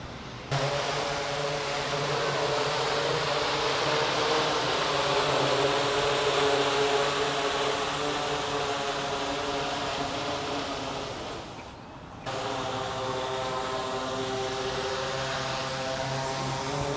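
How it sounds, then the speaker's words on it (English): A delivery drone flying overhead makes a steady, loud whirring buzz of spinning rotors with harmonic layers, briefly dropping out and resuming, continuous with no talk. "Goodbye, drone."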